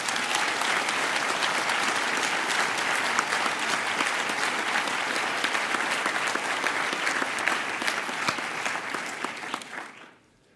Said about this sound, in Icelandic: fá ykkur til þess að klappa fyrir ykkur sjálfum og þeim árangri sem þið náðu í dag